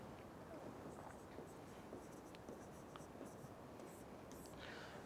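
Writing on a board during a current affairs lesson in Hindi: faint, continuous scratchy strokes with light taps against a soft background hiss, no talk.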